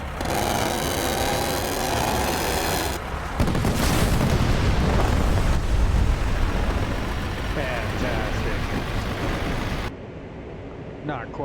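An A-10 strafing run in the DCS flight simulator video game, heard as a loud sustained roar of cannon fire and jet noise followed by rumbling explosions on the ground, with someone talking over it.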